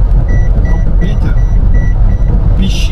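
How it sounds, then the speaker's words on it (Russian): A Toyota Hiace's lane departure warning beeps repeatedly in short, evenly spaced, high chirps over the steady rumble of the van driving on the road. "Я полосу пересек, она пищит."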